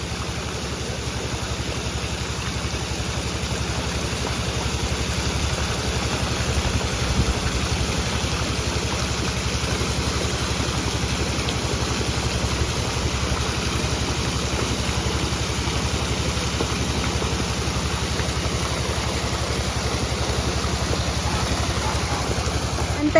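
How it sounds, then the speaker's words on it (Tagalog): A motorcycle engine idles in a steady drone without pause, a constant mechanical rumble with a broad hissy wash over it. "maingay lang dahil sa motor"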